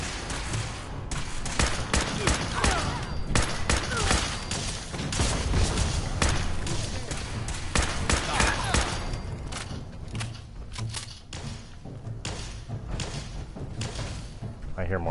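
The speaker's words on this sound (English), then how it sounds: "I hear more shots." Gunfire from the video game Fallout 4 sounds as repeated sharp cracks and bursts over several seconds, mixed with someone talking.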